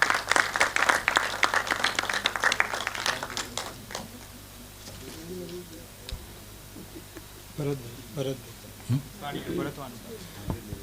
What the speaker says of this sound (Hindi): तालियां इनके लिए थोड़ी सी और होनी चाहिए।